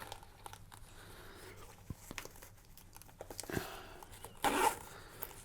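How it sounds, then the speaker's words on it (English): A zipper being run along one side of a Neewer X-12 teleprompter's carrying case, a quiet scratchy pull heard near the end after faint handling rustles, with no talk. "And zipper this side."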